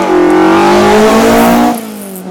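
A vintage race car at least 25 years old accelerates hard up the Lucéram–Peira Cava historic hill climb, its loud, close engine rising in pitch as it revs through a gear, then dropping away and fading as it passes.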